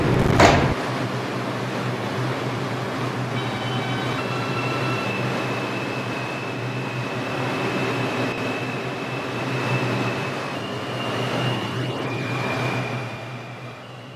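An MTA R142 subway train rumbles steadily along the tracks, with a sustained low roar and a high whining tone from the wheels and motors, close and continuous.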